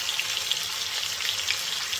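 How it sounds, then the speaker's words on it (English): Lamb steaks sizzle gently in a hot pan, a soft, even crackle of frying with faint pops throughout. "Just let them, gently sizzle like that."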